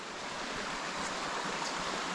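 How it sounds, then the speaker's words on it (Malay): A river on a jungle hiking trail flows steadily, a continuous even rush of water heard close and alone. "So aku dah sampai sungai ni."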